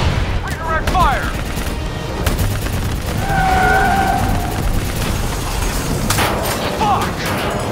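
Bursts of gunfire and explosive booms in a Call of Duty Black Ops firefight, dense and continuous, with shouted voices over the battle.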